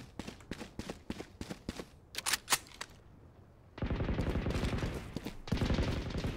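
Gunfire in Valorant: rapid bursts of distant automatic shots, then a longer, louder stretch of sustained rattling fire.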